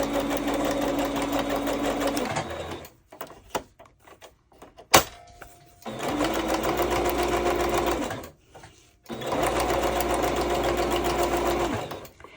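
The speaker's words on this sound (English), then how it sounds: "I'm going to just straight stitch all the way up and catch what I can" A sewing machine runs a straight stitch in three steady, loud bursts of a couple of seconds each, broken by pauses filled with clicks and fabric handling.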